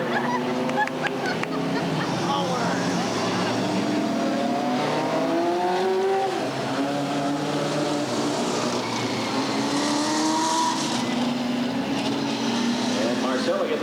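Race cars circling a short track at Redwood Acres Raceway during a 1989 race, engines droning and rising in pitch continuously and loudly throughout, with a commentator talking over the noise.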